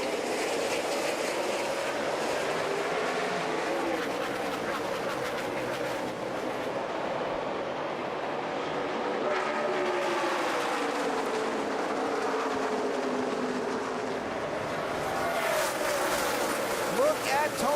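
NASCAR Sprint Cup stock cars on a green flag restart at Texas Motor Speedway in 2011 form a dense, sustained engine roar with pitch sweeps as cars pass, under continuous broadcast commentary.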